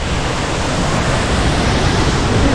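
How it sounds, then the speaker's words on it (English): A waterfall at Gitgit in North Bali, a loud, steady, dense rush of falling water filling the whole space without pause. "this probably isn't a huge waterfall"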